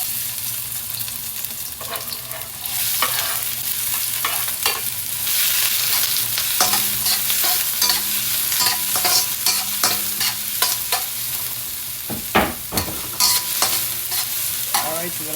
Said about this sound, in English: I'm gonna put some oil in the frying pan. I'm gonna fry up this ginger